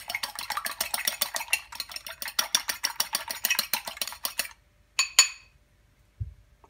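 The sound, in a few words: beating a whole egg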